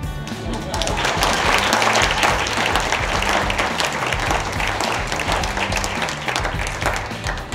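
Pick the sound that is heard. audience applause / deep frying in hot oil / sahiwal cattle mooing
audience applause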